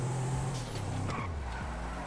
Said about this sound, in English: Hey, the GTR actually sound nice.